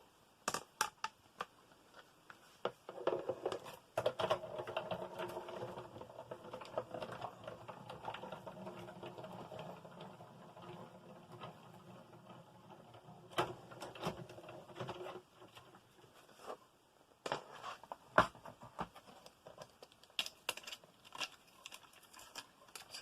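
A sewing machine stitches a fabric tag into a shaped pocket. A long, steady run of whirring needle strokes is followed by several short, sharp bursts, all fairly quiet and close.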